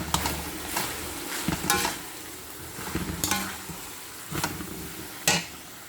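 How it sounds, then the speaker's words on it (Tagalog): Shredded cabbage stir-fried in a pan at lunch preparation, with a steady sizzle broken by repeated bursts of spatula scraping and stirring, close and fairly loud, no voices. "I am going to add my shredded cabbage"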